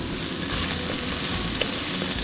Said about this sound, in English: We add in our butter.